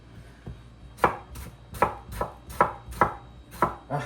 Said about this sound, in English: Sharp knives that go through tomatoes make me happy.